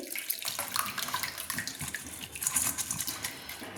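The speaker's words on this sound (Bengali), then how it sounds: "এবার ঝুড়ির সাহায্যে ফুলকপিটাকে আমি ছেঁকে নিচ্ছি।" Boiled cauliflower is drained through a basket strainer, and hot water pours and splashes steadily into a sink. The sound is continuous and fairly close.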